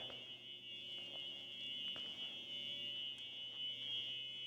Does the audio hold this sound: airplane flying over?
no